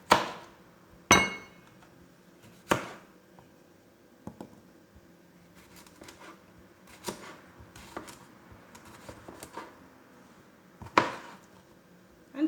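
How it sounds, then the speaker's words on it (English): Knife blade slicing through a washed, unpeeled cucumber on a board, a handful of sharp separate chops spaced a second or two apart with quieter tapping between, fairly close. "I'm not going to peel it. I'm just going to go ahead and cut."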